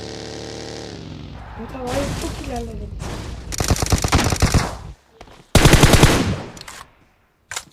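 Gunfire in PUBG Mobile, loud rapid automatic bursts in several clusters, with voices talking around and between the volleys.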